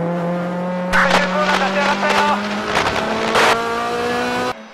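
Radical race car closing out a 12-hour endurance race, engine drone held steady with sharp bursts of revving and tire noise passing through, loud and near, with a voice talking over it.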